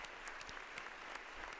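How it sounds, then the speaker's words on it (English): An audience at a university hall applauds Pope Leo XIV, a dense, continuous patter of many hands clapping at moderate distance with a few sharper claps standing out. "So a big round of applause for"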